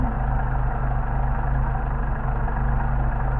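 A Mercedes 190SL engine idling at about 700 rpm after its carburetors are adjusted, a steady, close, low rumbling throb with an even pulse and no talking.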